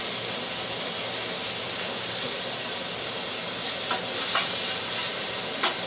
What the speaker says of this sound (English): I'm going to render that out a little bit, and then we'll add some onions to it.